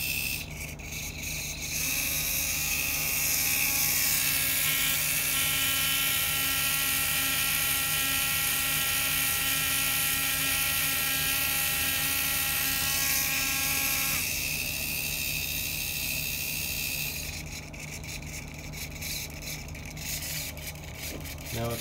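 Servo motors on a Beaglebone Blue-powered SCUTTLE robot, fed from a 12 V barrel plug, buzz in a steady, dense electric whine that holds for the whole stretch with small shifts in pitch, close and continuous.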